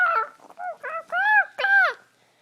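A voice imitates a chicken with four squawky, rising-and-falling clucks in quick succession, close and fairly loud, the last two calls longer and stronger.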